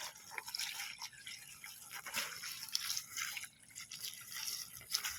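Water drips and trickles steadily onto the base of newly planted corn clumps during hand watering in a dry spell, a soft continuous patter with faint hiss, fairly close and heard alone.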